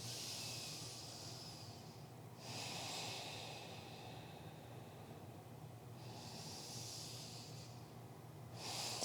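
Slow, deep breathing during a yoga forward fold, close and soft, with long airy inhales and exhales in a calm steady rhythm and no talking.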